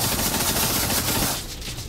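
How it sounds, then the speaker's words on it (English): Protector 9mm submachine gun fire in Arma 3: a dense, loud burst of rapid automatic shots that fills the moment, then tails off into a fading echo. "the Protector 9mm is in the game for a reason after all"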